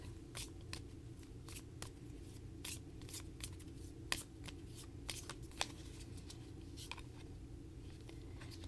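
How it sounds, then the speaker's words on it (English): Soft riffling and flicking of an oracle card deck being shuffled, with repeated quick snaps and shuffles, close and quiet over a low steady background hum, no talking. "I'm going to go ahead and pull an oracle card real quick"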